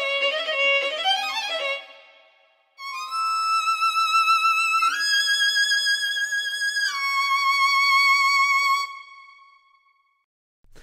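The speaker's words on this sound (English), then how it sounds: "that turns on portamento and gets that nice slur, and it sounds like this." Kirk Hunter Lyric Series string quintet playing a sustained legato line with portamento, the notes sliding smoothly into one another in long held tones, clear and alone, after a brief opening phrase and a short pause.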